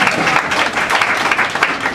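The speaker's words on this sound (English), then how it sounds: "Give yourselves a great round of applause" Applause from an audience in a hotel meeting room during a marketing presentation, a dense, steady wash of many hands clapping close by, fairly loud and continuous.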